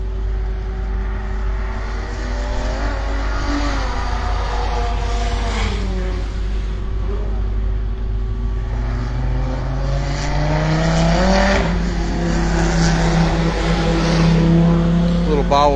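Race car number 812 accelerating around the Hallett track, a loud engine climbing through gears with rising, falling pitch sweeps, steady and sustained, while a commentator talks over it.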